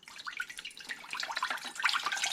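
Chicken broth from a 32-ounce carton poured into a soup pot for watercress pork soup, a steady splashy liquid trickle that builds slightly toward the end, close and alone.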